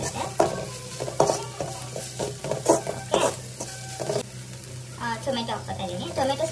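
Tomato and coriander fry in a pan for a homestyle country-chicken curry, sizzling steadily under repeated scraping stirs of a utensil against the pan, with a faint voice briefly audible near the end.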